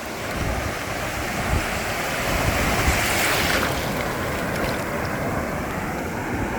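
Ocean waves roll and break continuously on the beach at El Espino, a broad wash of surf with wind buffeting the microphone and no voices.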